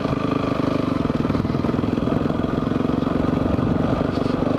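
Steady close running engine of an adventure motorcycle, a continuous rapid pulsing drone throughout with no talk.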